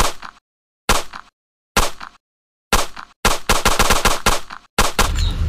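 Sharp electronic bursts from a toy mini pistol, first a few single shots with pauses, then a rapid rattling volley, loud and close with no talking.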